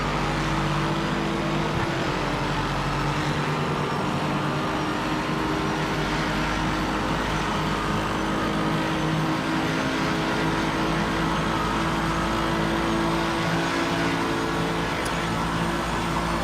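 A race car engine in a racing video game roars steadily and loudly throughout, a dense continuous drone with shifting revs and no pauses.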